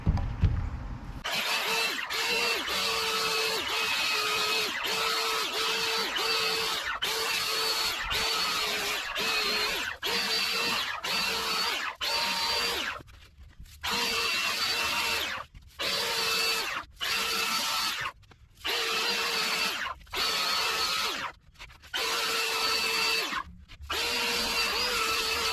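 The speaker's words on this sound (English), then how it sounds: "So now I'm going to go ahead and sand it down." A power sander works over a fiberglass kayak bulkhead repair, running loud and steady for about 25 seconds, with brief stops and restarts in a broken rhythm through the second half.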